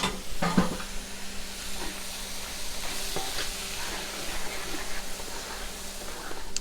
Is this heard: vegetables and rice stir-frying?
yes